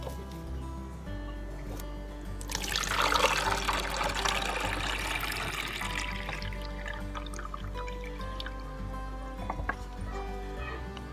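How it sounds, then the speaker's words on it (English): Green cleavers juice poured through a sieve, a close splashing trickle swelling after a couple of seconds and then easing to a faint drip over a steady low hum. "If you hold the nest, the sieve, Okay. I'll pour it through."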